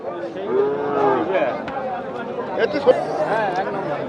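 Cattle lowing amid a busy crowd at a livestock market in Nilphamari, Bangladesh, with steady chatter and voices mixing around the drawn-out moos.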